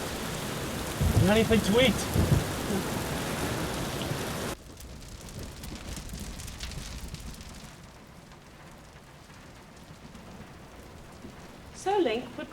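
Steady heavy rain pours in a film scene, with a rumble of thunder near the start and again at the end, while a voice speaks briefly over the downpour.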